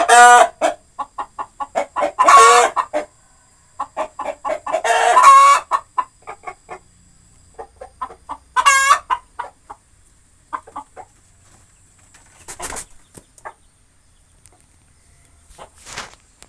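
Backyard chickens kept by a small-scale farmer, a hen about to lay, giving loud bursts of clucking and squawking with quieter clucks and scratching between, close by and fading toward the end.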